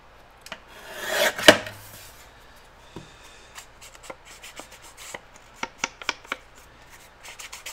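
A strip is cut off a sheet of paper, heard as one close, rising rasp that peaks in a sharp swipe, followed by scattered light taps and rustles.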